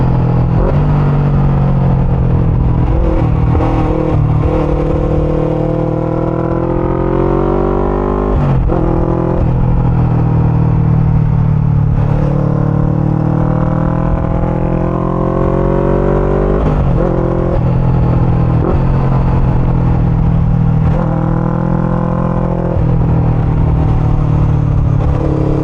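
A VOGE 500 DS motorcycle cruising at about 70 to 80 km/h, its engine droning loud and steady with wind roar, pitch rising and falling through several gear changes and throttle shifts, no voices.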